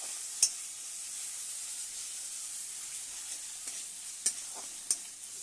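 Spice paste cooked down with sour curd for a Bengali fish curry, a steady soft sizzle with occasional sharp stirring scrapes from the spoon in the pan, close and fairly quiet throughout.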